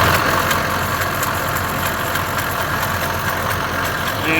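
A running car engine with a noisy tensioner pulley gives a steady idling drone with a faint whirring hum, close and constant throughout with no talking.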